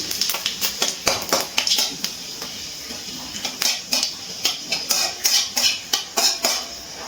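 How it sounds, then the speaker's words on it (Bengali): Dried red chillies and Bengali five-spice tempering stirred in hot oil, heard as a rhythmic run of metal spoon scrapes and taps against the pan over a faint sizzle, with no speech. "ফোড়নটা কিছুক্ষণ একটু নাড়াচাড়া করে নিচ্ছি।"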